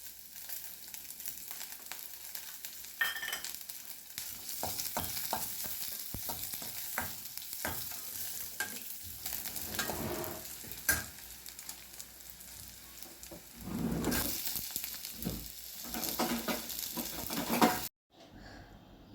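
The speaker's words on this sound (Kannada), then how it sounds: "ಕಟ್ ಮಾಡಿರೋ ಗಾರ್ಲಿಕ್ನ ಹಾಕಿ ಸ್ವಲ್ಪ ಫ್ರೈ ಮಾಡಿ, ಅದಕ್ಕೆ ಆನಿಯನ್ ಹಾಕಿ ಆನಿಯನ್ ಟ್ರಾನ್ಸ್ಪರೆಂಟ್ ಆಗೋ ತನಕ ಫ್ರೈ ಮಾಡಿ" Garlic and onion frying in oil in a pan, a continuous sizzle broken by repeated spatula scrapes and clinks against the pan, close and uneven, ending abruptly in near silence.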